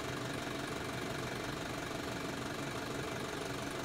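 A vehicle engine idles nearby with a steady, rough broadband rumble that carries on unbroken throughout, with no voices over it.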